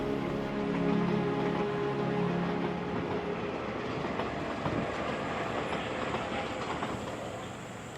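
The Desert Express train in Namibia rolls steadily along the rails at the edge of the Kalahari Desert, with a continuous, loud rumble and faint rhythmic clatter, with no talking.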